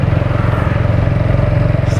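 A motorcycle rides along on a Sunday spin in Dehradun, its engine thrumming with a steady, loud pulsing rhythm close to the microphone.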